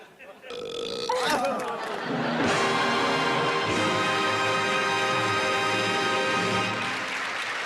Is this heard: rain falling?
no